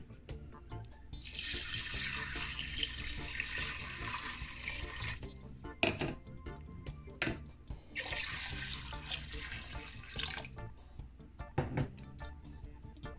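Tap water runs in two long bursts over Irish sea moss in a bowl, covering it for an overnight soak. Between the pours come brief clinks and handling sounds. There is no talk.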